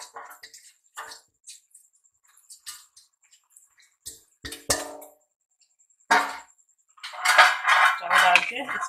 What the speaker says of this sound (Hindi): पानी उबल गया, अब इसमें हम चावल डाल देंगे।